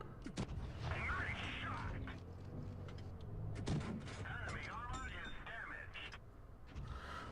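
Tank cannon shots in World of Tanks Blitz with a British Matilda medium tank, several heavy booms spaced seconds apart among engine and battle noise, with someone talking over them.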